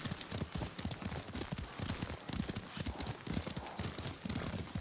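Horse hooves clip-clopping steadily while riding in the Ghost of Tsushima video game, a continuous galloping rhythm that stays close and fairly loud throughout, with no talk.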